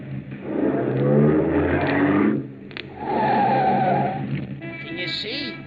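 A car in a radio-drama chase drives hard and accelerates, its engine revving loud with tire skid and squeal, easing briefly before surging again, then fading out under a faint background.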